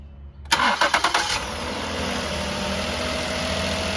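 A 2008 Ford Taurus with a charging system failure cranks with several quick, loud pulses, catches, and then settles into a steady idle that continues to the end, with no talking.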